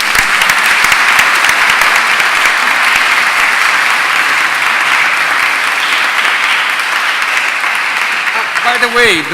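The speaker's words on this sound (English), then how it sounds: "So the last applause is for you" Steady, dense clapping from a conference audience at the close of a session, continuous and fairly loud throughout, with a brief voice near the very end.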